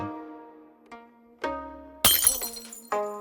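An empty liquor bottle drops and shatters in one sudden crash of breaking glass, over soft plucked musical notes that continue before and after.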